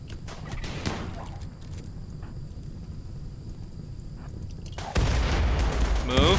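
Grenade explosions in the RimWorld video game, with a low rumbling battle backdrop that breaks into a sudden loud blast near the end and keeps booming.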